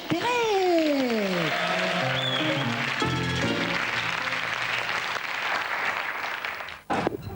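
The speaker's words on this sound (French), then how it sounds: "On applaudit Jacques Perret." An audience breaks into steady applause for Jacques Perret on a French television show, a dense wash of clapping under a few whistles and stray voices.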